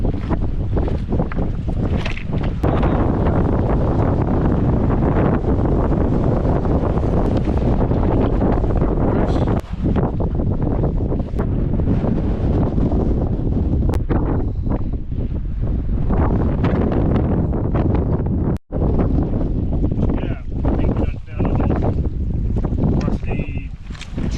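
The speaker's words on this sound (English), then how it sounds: "The wind's pretty cold" Cold wind gusts hard in the New Zealand wilderness, roaring steadily across the microphone with heavy buffeting and no let-up.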